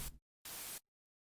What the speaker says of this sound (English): So that's what basic white noise sounds like.